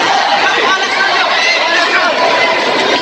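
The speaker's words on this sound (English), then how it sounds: "The crowd, as you can hear in the background at the Coca-Cola Arena here in Dubai, extremely pro Nonie Nietes, singing his name, going wild for him" A boxing crowd at the Coca-Cola Arena in Dubai roars and chatters continuously, a dense loud wall of cheering and voices for fighter Nonie Nietes.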